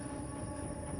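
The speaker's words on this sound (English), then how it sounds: "look at that train going on back there" A distant train rumbling past in the background of the video game INSIDE, a steady low, continuous roll lasting the whole second with no speech over it.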